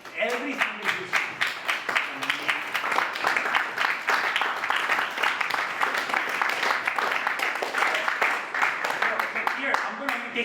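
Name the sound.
audience applause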